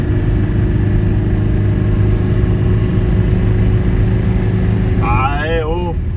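A Phoenix car climbing a hill at about 40 km/h, its engine giving a steady low rumble throughout, with a short bright whine near the end.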